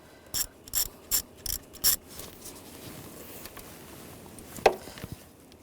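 Ratchet with an 8mm socket loosening a worm clamp on a radiator hose of a 2008-2012 Jeep Liberty 3.7L V6, five quick crisp clicking bursts close by, then quiet handling and a single sharp clink.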